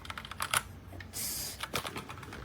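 Keystrokes on a Newmen GM610 60% wireless mechanical keyboard, a few quick close clicks and clacks in short bursts with a brief hiss-like swell between, quiet and with no talking.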